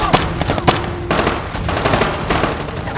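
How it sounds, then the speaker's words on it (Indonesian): Rapid bursts of automatic gunfire and scattered shots from Taliban forces in a battle scene, loud and close, cracking in dense overlapping volleys. "mereka juga mendapatkan tembakan dari pasukan Taliban yang tiba-tiba mengetahui posisi"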